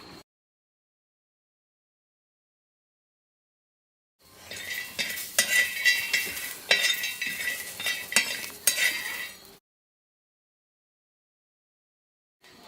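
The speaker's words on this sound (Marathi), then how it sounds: "मी आता शेंगदाणे भाजून घेते सुरुवातीला मसाल्यासाठी।" Peanuts are roasted on an iron griddle over a wood-fired clay chulha, stirred with a utensil. Several seconds of rattling, scraping stirring sit between stretches of near silence.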